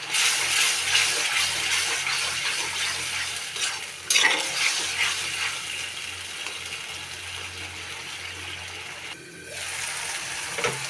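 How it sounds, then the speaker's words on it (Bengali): Fried potatoes stirred in a hot pan, a steady close sizzle with spatula scrapes, a sharp clatter near four seconds and a brief dip before the frying resumes. "এখন আমি আলু ভাজা দিয়ে দিলাম, আলুটা ভালো করে কষাই নেব"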